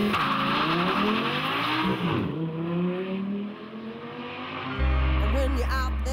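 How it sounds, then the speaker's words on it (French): A high-revving V10 race car engine screams close by, its pitch sweeping up and down through gear changes, with a sudden loud burst near the end. "Moteur, le V10, c'est ouf derrière."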